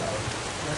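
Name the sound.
rain falling outdoors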